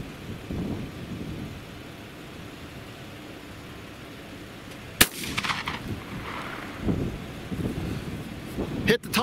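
A 12 gauge shotgun fires one sharp, loud blast at mid-clip, followed by rumbling echo, with wind buffeting the microphone and a second sharp bang near the end.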